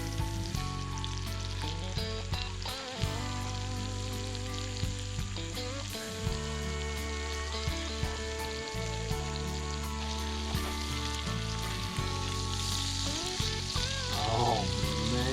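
Potatoes with onion and garlic frying in a pan at a lakeside camp: a continuous loud sizzle and crackle throughout, with occasional stirring scrapes and no talk.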